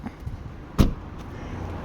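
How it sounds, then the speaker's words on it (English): The hidden-handle rear door of a Renault Megane E electric car is opened, giving a single short, quiet latch click against faint background noise. "So this is how you open the back door."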